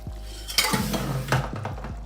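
A spoon stirs gravy with pepper and onion juice in a pan, making close metallic scrapes and clinks against the pan in an uneven rhythm over a low hum.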